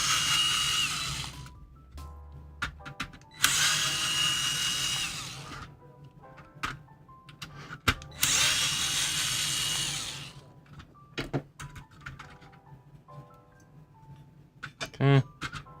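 Power screwdriver backing screws out of a Nintendo GameCube during a mod, several loud whirring bursts of a second or two each with quieter clicks and handling between, a person speaking briefly in between.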